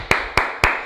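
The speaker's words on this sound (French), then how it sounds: "Et ça mérite une belle main d'applaudissement." Four sharp, evenly spaced claps in quick succession during a boxing-style fitness class, close and crisp with no voices over them.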